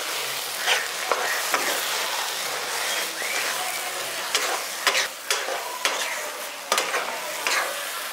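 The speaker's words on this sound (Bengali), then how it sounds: "এবার এটা ভালো করে মিশিয়ে দিচ্ছি" A spoon stirs jujube pickle in a pan after roasted spice mix goes in, giving soft sizzling under irregular scraping strokes and clacks, moderately close, with no voices.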